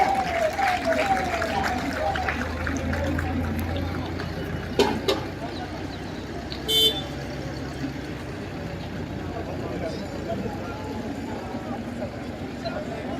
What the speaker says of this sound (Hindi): जोरदार तालियां रेड क्रॉस की झांकी के लिए।